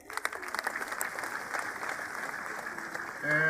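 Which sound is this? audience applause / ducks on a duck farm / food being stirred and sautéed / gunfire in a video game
audience applause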